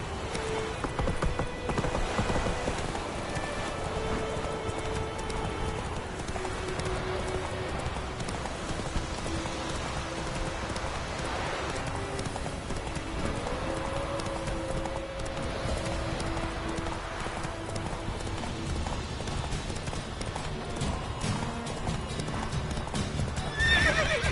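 Roach, Geralt's horse in The Witcher video game, gallops with a loud, steady clip-clop of hooves, and a whinny rises over the hoofbeats partway through.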